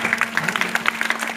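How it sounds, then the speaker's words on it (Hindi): An audience at a Chhattisgarhi Ramayan performance claps in quick, uneven bursts, a brisk, fairly loud patter of hands over a steady low hum. "जोरदार ताली बजा दो।"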